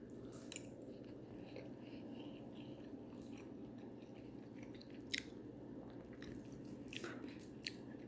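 Someone chews a bite of cheese enchilada with queso fresco and red sauce, soft close wet mouth sounds and occasional sharper smacks over a low steady background hum, with no talking.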